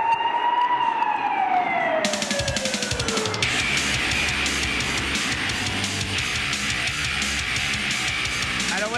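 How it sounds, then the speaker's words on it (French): A broadcast jingle marks the start of the elite-final race of the e-trophée at Val Thorens: a falling siren-like tone sweeps down, then a loud, dense burst of sound holds steady with no talk. "Jingle."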